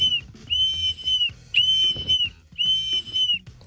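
Three long, piercing blasts from a high-pitched bear-deterrent whistle, loud and close, separated by short pauses.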